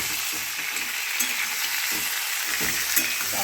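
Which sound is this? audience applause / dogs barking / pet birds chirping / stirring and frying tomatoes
stirring and frying tomatoes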